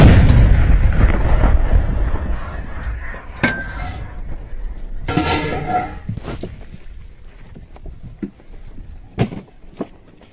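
A Ukrainian artillery gun fires toward Russian positions from a field position, a deep boom up front that decays into rumble, followed by a few sharper cracks and thuds further off, with quiet gaps between.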